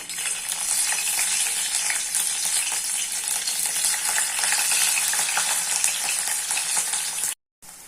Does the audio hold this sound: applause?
no